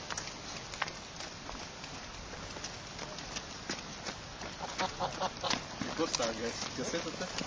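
Ducks quacking and geese honking in a noisy farmyard crowd, with people talking nearby and shuffling movement throughout.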